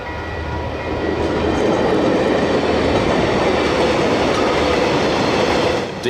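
DC class diesel locomotive 4876 towed by rail from Middleton to Ferrymead behind DC 4726 and DXB 5137, a loud, steady rumble and rolling wheel noise passing close by.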